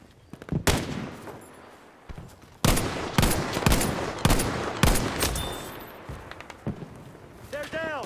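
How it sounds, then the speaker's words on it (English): Repeated bursts of gunfire from Battlefield 5, loud and close, come in rapid volleys and single shots across a wartime battle, with shouted voices and radio-style chatter mixed in. "That's good, suppressing fire!"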